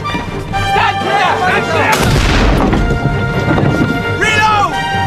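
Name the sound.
ship's cannon firing a broadside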